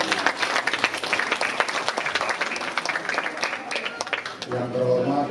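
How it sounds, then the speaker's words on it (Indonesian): An audience claps for the children at a National Children's Day gathering in Indonesia, a lively round of applause from a crowd that fades near the end as a voice begins to speak. "Tepuk tangan dulu buat semua anak kita yang ada di sini."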